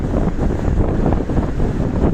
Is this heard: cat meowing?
no